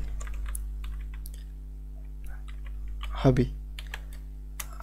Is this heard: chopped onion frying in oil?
no